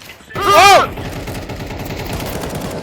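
A single loud gunshot from a weapon in Counter-Strike 2 cracks out, followed by a fading, rattling tail.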